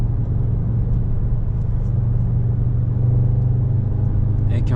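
A 2021 Audi S3 sedan on the road gives a loud, steady low engine and exhaust drone with deep rumble as it pulls under acceleration, heard from inside the car.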